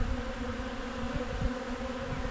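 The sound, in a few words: honey bees buzzing in a hive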